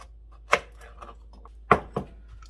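A few sharp knife chops through carrots on a cutting board, spaced irregularly with quiet gaps between them.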